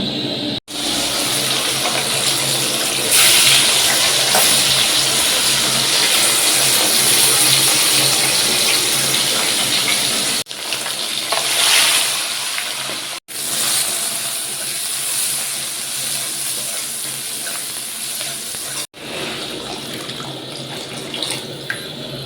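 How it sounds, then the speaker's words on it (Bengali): Water poured into hot mustard oil for a fish curry, a loud, steady hissing sizzle that runs close and continuous for about twenty seconds with a few brief breaks, and no voices over it. "তো অল্প একটু জল দিয়ে দিলাম, এরপর ধনে গুঁড়োটা কষাবো"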